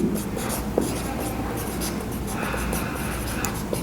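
Pen scratching steadily across paper while working out an eighth-grade algebra problem on formulas, a continuous close scribbling texture with small taps, with no talking over it.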